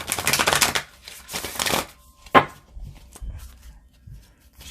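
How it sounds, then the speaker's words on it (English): A new deck of oracle cards is riffle-shuffled close by in two crisp, rustling bursts, followed by a sharp tap and a few soft knocks and handling noises. "Shuffles"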